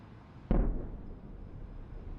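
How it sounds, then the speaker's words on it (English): A single big explosion in news footage: a sudden sharp boom that then rolls off into a decaying rumble over about a second, heard alone against low background hiss. "Oh, big explosion right there."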